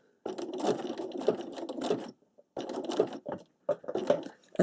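A sewing machine runs a satin stitch around a gentle outside curve on fabric tulips, in steady close bursts that stop briefly and then start again.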